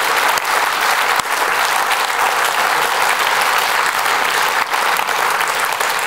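Sustained applause from a stand-up comedy audience at a New Year show, steady dense clapping filling the whole stretch at high volume with no break.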